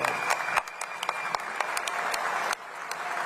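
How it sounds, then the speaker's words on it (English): Applause from the audience at a sports hall of fame enshrinement ceremony, a moderately loud, steady clapping with sharp individual claps standing out, continuing throughout without talk. "Please join us in a round of applause for 2025 honoree Bill Kirelawich."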